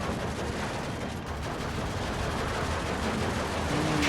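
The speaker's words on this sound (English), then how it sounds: "Alright, so Panzer Tree is being shot at." Dense, continuous battlefield gunfire around a Panzer III tank in the Steel Division II war strategy game, crackling machine-gun and rifle fire blending into a loud, unbroken roar.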